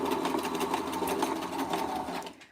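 Sewing machine stitching lingerie fabric, a steady fast rapid-fire whir of needle strokes running loud and close for a couple of seconds before stopping abruptly.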